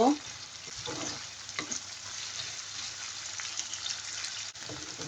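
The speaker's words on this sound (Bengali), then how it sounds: "পেঁয়াজটা একটু সফট হওয়া পর্যন্ত ভাজবো। পেঁয়াজটা সফট করে ভেজে নেব।" Chopped onions frying in oil until soft for chola bhuna, a steady crackling sizzle with a few stirring scrapes near the start and the end, moderately loud and close.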